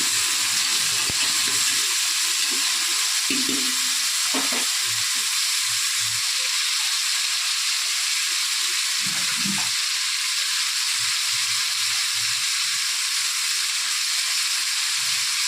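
Onions sizzle steadily in hot oil in a pan, salted to help them brown faster, a dense continuous hiss with scattered low knocks of stirring and utensil contact.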